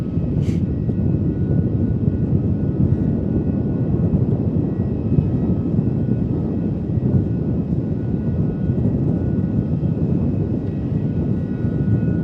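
Boeing 717 airliner taking off at Melbourne Airport, a loud, steady roar of jet engines with broad rumbling noise sustained throughout, heard from nearby with no talk.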